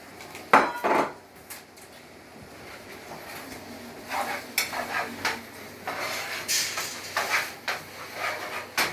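Dry noodles being put into a cooking pot in a home kitchen, with scattered clinks, knocks and rattles of pot and utensils, loud close taps at first and then a busier cluster of clatters.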